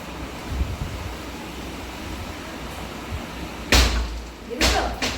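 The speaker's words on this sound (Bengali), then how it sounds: "জোর হাওয়া দিচ্ছে" Gusty wind roars across the microphone with a steady rumble, then two loud blustery bursts near the end.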